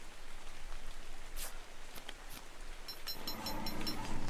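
Acid rain falls in ARK: Survival of the Fittest, a soft continuous patter with a few sharp ticks and a rising rumble and tonal clatter near the end, no talk.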